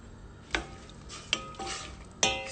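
Onions cook in a pan with a low, steady sizzle, broken by three distinct clanks and scrapes of a utensil against the pan, close by and with no talking.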